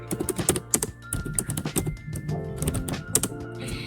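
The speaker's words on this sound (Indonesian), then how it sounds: "Pertama, kita ketik judul daftar pustaka." Keys on a computer keyboard clatter in quick irregular bursts as a title is typed into a Word document, crisp close taps with short pauses between them and no talking.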